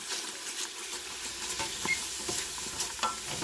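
Onions and garlic sautéing in olive oil in a pressure cooker for keto sausage lentil soup: a continuous close sizzle with scattered scraping and stirring taps, and no talk.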